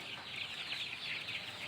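Young roosters around four weeks old, kept in a coop, give a steady stream of close, overlapping soft clucks and chirps with no pauses.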